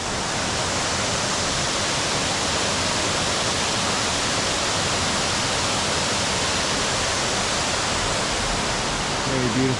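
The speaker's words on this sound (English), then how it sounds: "Just stopped at one of the waterfalls here along the Water of Leith." A waterfall on the Water of Leith stream in Edinburgh roars as a constant, loud, broadband rush of falling water that stays steady from start to finish.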